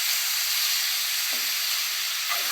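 Chopped tomatoes and mint leaves fry in a pan for a mixed vegetable pulao, giving off a steady close hiss and sizzle with a couple of faint stirring scrapes.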